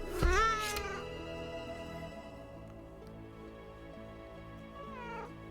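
A house cat lets out a loud, close, wailing meow at the start, followed by a fainter second meow near the end against quiet indoor background.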